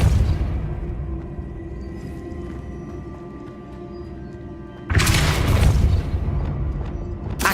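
A Depulso spell goes off in Hogwarts Legacy as a deep booming blast, loud and sudden, over a lower rumbling background.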